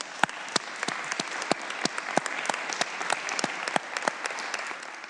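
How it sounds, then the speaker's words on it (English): Scattered applause fills a legislative House chamber as lawmakers clap for staff, sharp individual claps standing out over a steady, moderately loud patter. "I think all of our staff deserves a round of applause"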